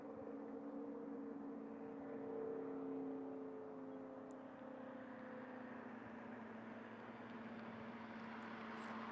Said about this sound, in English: you can hear that distant vehicle across the farm fields on Highway 9